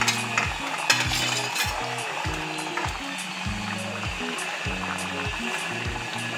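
Fried fish pieces going into simmering curry and being stirred, with soft scraping and bubbling near at hand and a steady tonal backdrop beneath.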